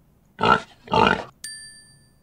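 Pig oinks in a children's find-the-animal game, two loud grunting snorts in quick succession followed by a bright ringing chime, isolated against silence.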